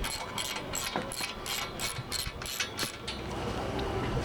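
A ratchet wrench on a bolt joining the X-brace of a modular heavy-duty truck rack, giving a quick series of about ten sharp clicking strokes, close and moderately loud, then a short pause.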